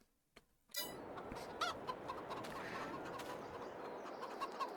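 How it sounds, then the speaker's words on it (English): Dense, steady chatter of many chickens clucking together in the video game Farming Simulator 22, with occasional louder squawks rising above the flock, fairly close and continuous. "what I've got here is some chickens of varying ages"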